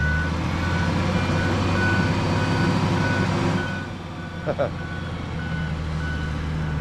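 A well-worn wheel loader works on slimy ground with a loud, steady engine rumble and a continuous reversing beep. The engine noise drops off partway through, and a couple of brief knocks follow.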